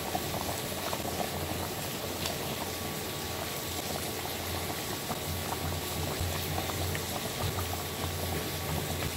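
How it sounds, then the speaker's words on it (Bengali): A pot of curry with water, pumpkin and hilsa fish at a rolling boil, giving a dense continuous bubbling and hissing that stays steady and close throughout. "আমাদের তরকারি ফুটে গেছে।"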